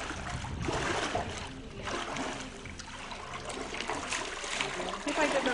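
Water splashes and trickles irregularly as someone bathes their feet, a close, uneven sloshing with soft dribbles and brief swells of louder splashing.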